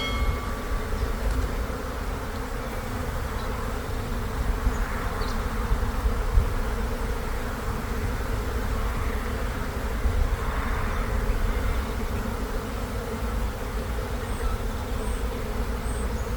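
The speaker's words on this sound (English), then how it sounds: "There's like a couple of bees" Honeybees buzzing steadily in and around an open hive during a fall inspection, a continuous close drone of many wings that rises and falls gently throughout.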